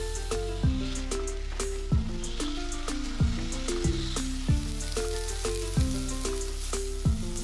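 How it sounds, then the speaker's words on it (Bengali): Marinated chicken pieces stirred in a pan over high flame, with a steady sizzle and frying crackle under repeated regular tonal clanks from the utensil, close and clear. "প্রথমে চিকেনটাকে হাই ফ্লেমে 1-2 মিনিটের জন্য একটু নেড়ে নিচ্ছি।"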